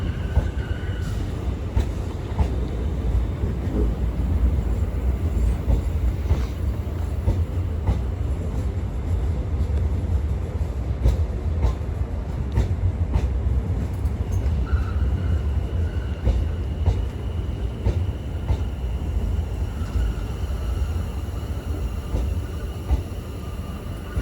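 Class 450 electric train at a London terminus setting off for Woking, a steady rumbling drone with scattered clicks and faint wheel squeals, heard from nearby on the platform.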